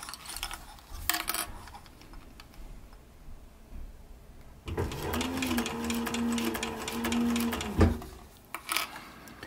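A sewing machine stitches leather for a short brim cap, running steadily for about three seconds close by after a quieter stretch with a few clicks and handling knocks.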